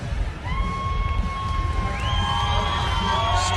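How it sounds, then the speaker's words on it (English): A fight crowd cheers for Bojan Velickovic after his win, a loud, continuous roar with whoops and shrill shouts, and a few sustained whistles rising above it. "Huge crowd support for him here tonight."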